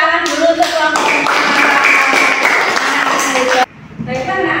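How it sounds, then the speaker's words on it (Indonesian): A primary school class claps for the rose group after its discussion presentation: a dense, loud burst of many hands in a classroom lasting about three and a half seconds, then stopping abruptly as a voice resumes. "Tepuk tangan dulu untuk kelompok bunga"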